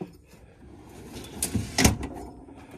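A fridge slide drawer in a Tuffy Bronco drawer unit rolls open and shut, a soft sliding rumble followed by two sharp knocks as it stops and latches, close by and alone.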